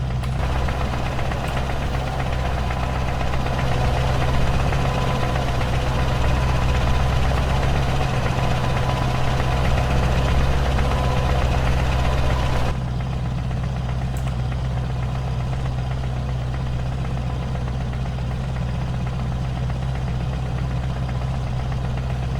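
A Scania T-cab truck engine idles steadily and alone in a game, a loud low rumble with a constant knocking throb throughout, the tone shifting slightly partway through.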